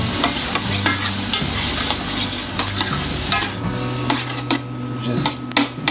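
Onions frying in a good amount of ghee, or clarified butter, for butter chicken, with lively sizzling plus repeated sharp spoon-on-pan stirring clinks close up and no speech.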